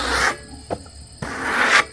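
Sawdust is scraped off a cherry log being sawn into pieces, two broad rasping strokes near and fairly loud, separated by a short knock and a quiet gap.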